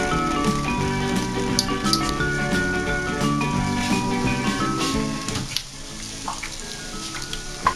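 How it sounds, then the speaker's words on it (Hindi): Vegetable kababs fry in hot oil, giving a loud, continuous sizzle with crackling pops that settles slightly quieter near the end, with no one talking. "अब इसे फ्राई करते हैं।"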